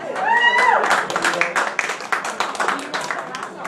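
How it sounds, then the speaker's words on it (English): Applause and clapping from a live audience for a stand-up comedian at a hosted comedy event, a dense wash of hands that stays loud and fairly steady for a few seconds, with a voice or cheer rising briefly at the start. "So just give him a big round of applause and don't throw anything at him."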